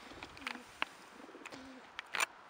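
Racing pigeons in a loft give soft, low cooing calls, two faint drawn-out coos separated by light clicks and rustles, with a brief flutter near the end.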